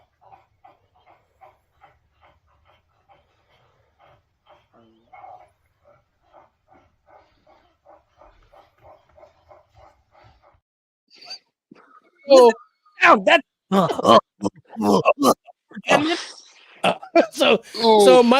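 A pet dog makes soft, repeated low whines and grumbles while a movie plays, the small sounds coming in a steady rhythm before loud close talk takes over the second half.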